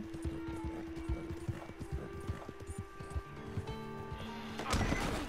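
Rapid clip-clopping horse hooves from Red Dead Redemption 2, steady and close, with a few neighs and a burst of noise near the end.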